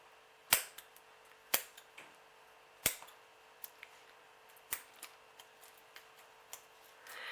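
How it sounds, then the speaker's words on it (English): Sharp, isolated snips of scissors trimming dead roots from a mini phalaenopsis orchid, spaced irregularly with several louder clicks and softer ones in between, close and otherwise quiet. "let's just trim all these dead roots off"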